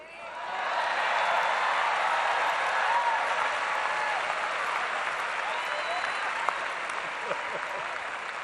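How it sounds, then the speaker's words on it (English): A large crowd applauds newly elected Chicago alderpersons at a mayoral inauguration. The clapping swells within the first second into a loud, sustained roar, with faint cheering mixed in, and holds steady for about eight seconds. "I'm gonna turn around and clap for them"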